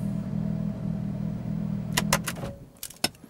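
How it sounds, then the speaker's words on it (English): A Porsche 991 GT3's front axle lift lowers the car inside a garage, a steady low motor hum lasting a couple of seconds, followed by a few sharp clicks and clunks as it settles. "The front axle lift raises the car up a little bit"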